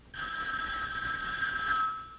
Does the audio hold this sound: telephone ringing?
yes